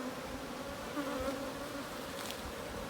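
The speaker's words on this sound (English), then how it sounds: "the bees that are still in the super can just go straight onto the hive" A close, steady drone of many honey bees buzzing around a hive, continuous and even throughout.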